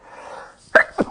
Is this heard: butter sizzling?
no